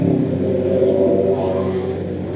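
A motorcycle engine strains steadily as it climbs a steep uphill road near a roadside restaurant in the Puncak area, with a continuous loud low drone and rising engine tone, close and unbroken, with no talk.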